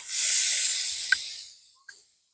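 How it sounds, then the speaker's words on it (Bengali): Salted, turmeric-coated shrimp hitting a hot pan of softened onions, a loud close hissing sizzle that slowly fades, with a couple of sharp utensil clicks near the end. "ঠিক এই পর্যায়ে দিয়ে দিচ্ছি আগে থেকে মিশিয়ে রাখা লবণ হলুদ মেশানো চিংড়ি মাছগুলোকে"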